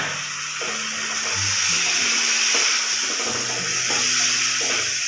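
Spice paste of cumin and coriander sizzles in a pan after a little water is added, for a jackfruit curry: a steady, close, bright hiss running throughout, with a faint voice murmuring low underneath.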